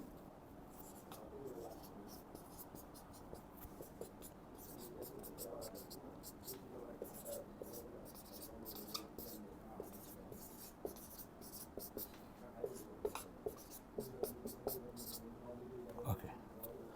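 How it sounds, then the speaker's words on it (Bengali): Handwriting of alphabet letters in large script, a soft, continuous pen scratching on paper, faint and close, running beneath a teacher's steady talk. "আমি বড় হাতে লিখতেছি"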